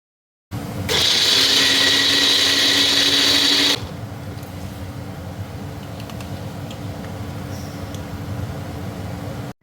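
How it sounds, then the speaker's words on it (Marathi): A mixer grinder whirs loudly for about three seconds while blending onion and tomato masala into a paste with no water added. It then cuts off, leaving a quieter rumbling background with light clicks. "आता या कांदा टोमॅटोचा जो आपण मसाला तयार केला आहे त्याची मी पेस्ट करून घेते"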